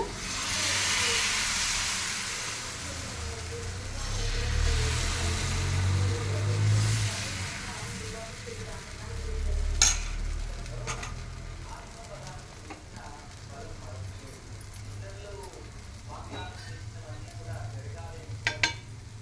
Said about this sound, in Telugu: దోశ అయితే వేస్తున్నాను